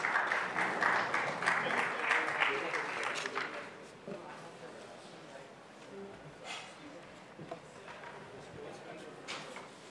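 Audience applause in a hall for panelists on stage after a sports marketing panel discussion, a dense clapping wash for about four seconds that thins into scattered claps and room noise.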